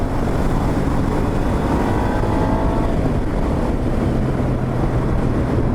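A Moto Guzzi Audace motorcycle accelerating hard in Veloce sport mode, its engine a loud, steady roar buried under heavy wind rush across the microphone.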